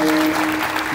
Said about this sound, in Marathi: गुणीजन मंडळीसाठी एक जोरदार टाळ्या वाजवा